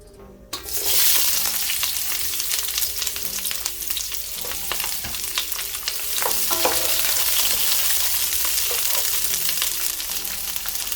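Onion and seasonings drop into hot oil in a pot and erupt into a loud, sudden sizzle that keeps going as a dense, close frying roar with stirring scrapes and crackles, without any talking.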